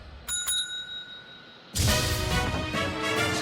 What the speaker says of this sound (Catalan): Sempre que sentiu aquesta campaneta tan simpàtica, és l'hora del número musical!